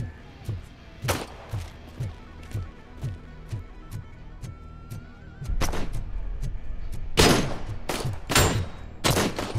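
Gunfire in the video game RoboCop: Rogue City, a steady run of evenly spaced shots followed by louder, denser bursts of heavy fire near the end.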